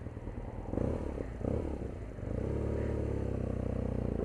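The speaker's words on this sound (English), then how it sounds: "you may be able to hear the exhaust" A 2017 BMW R NineT Urban G/S motorcycle engine rumbles steadily up close, its exhaust note rising and falling with throttle before settling into a sustained drone.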